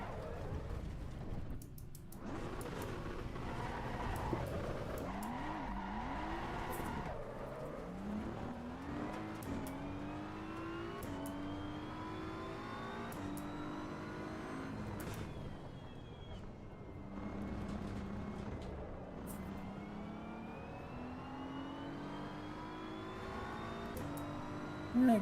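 A race car in the Assetto Corsa EVO racing game revs continuously through rising and falling gear changes, with brief tire squeals near the end, loud and steady throughout with no talk.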